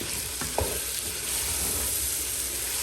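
Beef pilau mixture frying in a pot while it is stirred, a dense continuous sizzle with a couple of scraping knocks from the spoon near the start.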